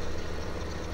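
Case Steiger tractor engine in the Farming Simulator 2015 game, running as a steady low drone at constant loudness throughout, close and alone with no talk.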